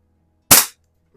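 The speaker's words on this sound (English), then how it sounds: "Looks like maybe about 20 shots gone so far." One sharp, loud shot from an Airforce International Indian target pistol, a crisp crack that decays in a fraction of a second and is followed by quiet.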